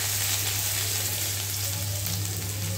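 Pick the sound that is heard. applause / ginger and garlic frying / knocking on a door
ginger and garlic frying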